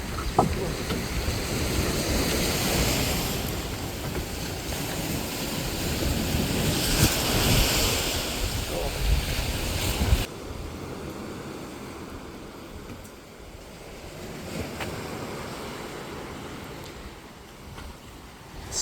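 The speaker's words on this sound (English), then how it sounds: "the waves are quite strong even though it's not the monsoon season" Strong sea waves crash and wash onto the beach at Club Med Cherating in Terengganu, Malaysia, a loud, rolling surf roar mixed with gusty wind buffeting the microphone, easing somewhat partway through.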